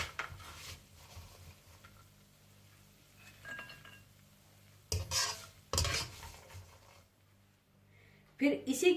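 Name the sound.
frying raisins and melon seeds in ghee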